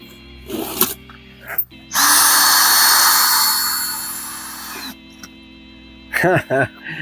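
A power drill with a badly worn bit spins up loudly for a few seconds with a harsh, high whir, bracketed by short bursts of speech before and after.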